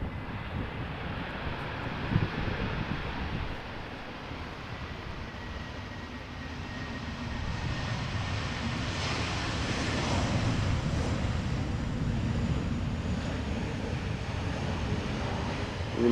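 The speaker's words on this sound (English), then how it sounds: "Ryanair is just touching down. 737 MAX 8. Arriving from Dublin." Faint, distant airliner noise as a Ryanair Boeing 737 MAX 8 arriving from Dublin touches down at Amsterdam Schiphol, a steady low engine rumble with wind swelling gradually toward the end.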